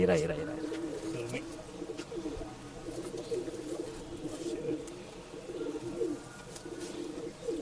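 A male Surme pigeon coos in repeated low, throaty phrases at a bird sale in Bangalore, with someone talking over it throughout.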